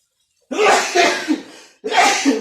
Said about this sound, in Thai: จามนะครับนะ